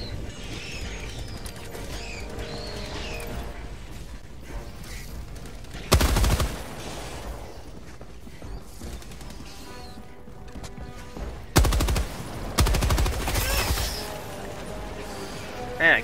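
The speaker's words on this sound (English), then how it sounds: "Man, I keep shooting over their heads." Bursts of video game gunfire with loud sharp volleys around 6, 11.5 and 13 seconds over a steady background of distant battle noise, with a player aiming at bug enemies in a shooter.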